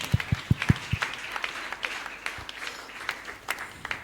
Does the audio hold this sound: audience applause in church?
yes